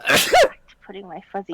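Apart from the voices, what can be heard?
sneeze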